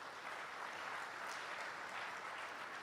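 An audience applauds the panelists at a high-level roundtable event, a steady dense wash of clapping from many hands, fairly faint and continuous, with no voices over it.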